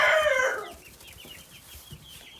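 A loud rooster-like squawk opens, then softer clucking and low murmuring from several meat chickens continue nearby.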